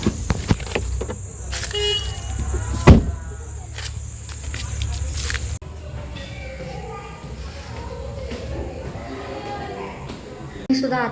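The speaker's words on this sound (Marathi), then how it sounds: "नेमकी ट्रॅफिक लागली इथे" Road traffic with cars gives a steady engine rumble and hiss, broken by several short horn toots and one loud thump, with people talking over it.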